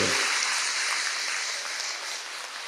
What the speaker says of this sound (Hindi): सब एक बार एक दूसरे के उत्साह वर्धन में तालियों की गड़गड़ाहट करेंगे